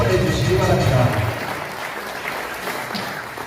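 Large audience in a Lotte Hotel hall at a ROTC rally applauding a pastor after his lecture, loud dense clapping with a voice over it at first, then the applause fades to a quieter patter.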